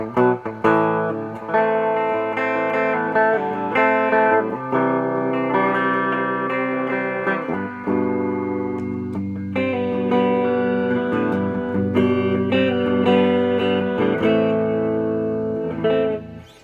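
An electric guitar plays chords and melodic lines through a warm Fender Hot Rod DeVille tube amp, with delay repeats and reverb trailing each phrase, no talking.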